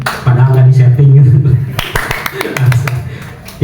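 Brief burst of applause in a school teachers' training session, a cluster of claps over a couple of seconds, mixed with a speaking voice.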